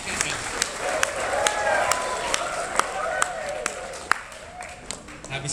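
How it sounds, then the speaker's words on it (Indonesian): Audience applause at the IDSECCONF 2012 security conference CTF session, with scattered claps over a steady crowd wash and speech-like voices running throughout. "Oke, tepuk tangan untuk Kak Uhuy."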